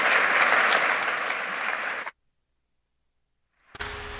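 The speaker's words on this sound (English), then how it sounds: "One more round of applause for Arlene Dickinson." Loud audience applause at a women-in-golf event honoring Arlene Dickinson, full and steady for two seconds before cutting abruptly to silence, then another burst of sound resumes.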